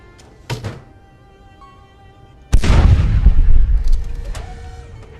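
Chem rail artillery in the space game Space Engineers fires with a sharp, heavy boom followed by a long roaring rumble that decays over several seconds, preceded by a brief clank.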